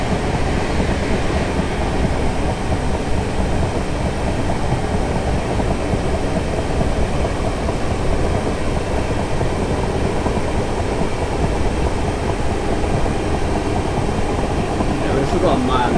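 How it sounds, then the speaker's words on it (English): A British commuter electric train running from Guildford to London Waterloo in Train Simulator 2018, a continuous low rumble and rolling drone under a steady hum, with someone talking over it throughout. "This train doesn't have very good acceleration, so can't really get up to 60 speed limit very fast"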